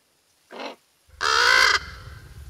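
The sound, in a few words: crow cawing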